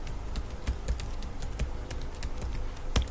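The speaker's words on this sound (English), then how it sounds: "So I'm going to type that in" A password is typed on a computer keyboard to log into a GitHub account. Quick, close key clicks patter in an uneven but continuous stream.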